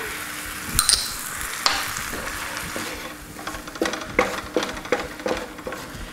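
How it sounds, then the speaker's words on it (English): White wine hits a hot pan of onions, celery, peppers and garlic, giving a hissing sizzle with scattered pops and stirring clicks, close and moderately loud. "Hit it with a couple ounces of white wine."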